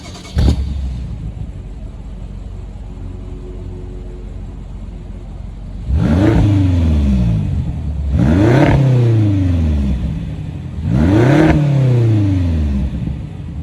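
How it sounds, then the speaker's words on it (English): A used BMW X6 M SUV's engine starts with a sharp catch, idles, then rises through three strong revving bursts that climb and fall back, close and loud, with no talk over it. "I'm gonna let you guys hear what that engine sounds like real quick."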